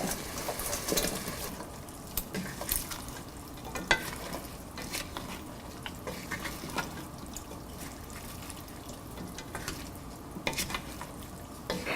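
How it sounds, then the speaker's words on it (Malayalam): Fried venison being stirred into pickle masala in a pan gives a soft, continuous sizzle with scraping and occasional sharp clicks of the spoon against the pan. The sound is fairly quiet and close, with no talking. "ഇനി ഇതിലോട്ട് നമ്മൾ ഫ്രൈ ചെയ്ത് വെച്ചിരിക്കുന്ന മീറ്റിട്ട് ശരിക്കും മിക്സ് ചെയ്ത് 5 മിനിറ്റോളം കുക്ക് ചെയ്യുക."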